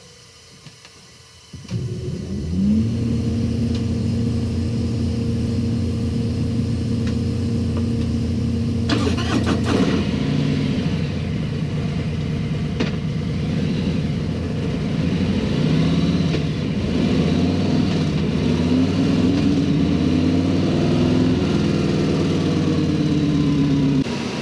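A stock Milwaukee 8 107 motorcycle engine fires up after a quiet start and runs steadily on a dyno, loud and close, with a rise in revs partway through before it settles back to a rumbling idle.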